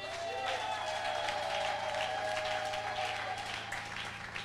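A church congregation applauds steadily in a large hall during a French-language service. The clapping is sustained and moderately loud, over a held tone.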